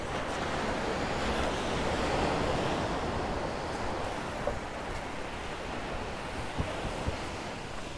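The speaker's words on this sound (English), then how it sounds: "There's a lot of waves there." Rough sea waves surging along the shore near El Peñón in Ciudad Jardín, Palma de Mallorca, a steady roar of surf with wind buffeting the microphone throughout, no voices.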